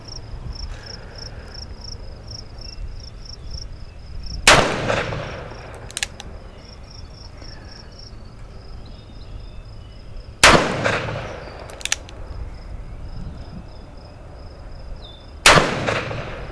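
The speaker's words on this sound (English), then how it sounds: "shoot the Vaquero at 25 yards and see how we do here" A Ruger Vaquero revolver fires three loud single shots at 25 yards, spaced roughly six seconds apart, each sharp crack followed by a short echo, with crickets chirping steadily outdoors between shots.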